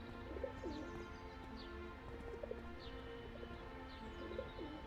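Pigeons cooing in the PC game Broken Sword 4: The Angel of Death, a repeated soft low coo over quiet ambient background, steady and moderately near with no talk.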